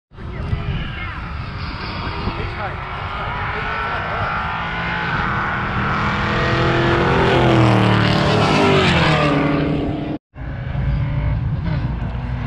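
Cars drag racing on an air strip, engines roaring loudly and continuously with rising revs as they accelerate away, a brief cut near the end before the engine noise resumes, with people talking over it.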